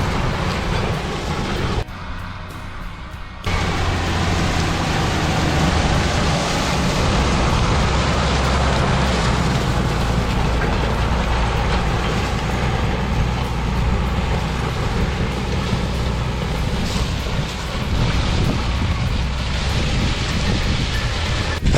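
A Shredder L90.550W roller shredder rolls through sunflower stalks in a field, a loud continuous low rumble with heavy wind buffeting, dropping briefly near the start before resuming steadily, no talking.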